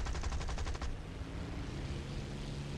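Rapid automatic gunfire bursts in War Thunder, a fast regular rattle for under a second that gives way to a steady engine and battle rumble.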